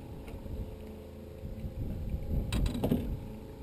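A bass fishing boat motor is driven during prefishing for a bass derby, a steady low drone with wind and water rush that swells toward the end, with no talk over it.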